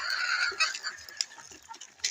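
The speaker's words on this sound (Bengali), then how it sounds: "আপনারা দেখতে পাচ্ছেন ফার্মি মুরগিগুলো আমার কি সুন্দরভাবে" Fayoumi laying hens on a small farm, feeding on cabbage leaves, cluck and call in a busy overlapping chorus, with brief sharper peaks among the steady murmur of the flock.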